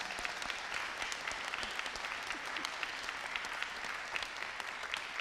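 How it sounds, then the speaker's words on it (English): A steady round of applause from an audience at an evening takeover event, many hands clapping evenly and fairly distant, holding at a constant level from start to finish. "Should we give him a round of applause?"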